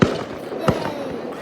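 A fireworks show over Moosehead Lake in Maine: a sharp boom opens, then another bang follows about half a second later, with fainter pops and crackle under a steady wash of outdoor noise.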